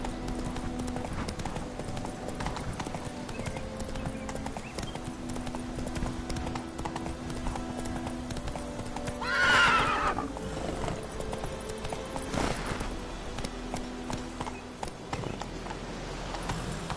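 A horse's hooves clip-clop steadily in The Witcher 3 game, mid-loud over a busy ambient bed, with a clear whinny breaking through partway.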